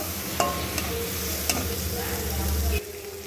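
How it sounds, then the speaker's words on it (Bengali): Potatoes fry in a pan with a splash of water, under a steady soft sizzle and occasional scraping stirs of a spatula, fairly faint and without speech. "মিক্সির বাটিটা ধুয়ে খুব সামান্য একটু জল দিয়ে আবার নাড়াচাড়া করে এর সঙ্গে মিশিয়ে নেব।"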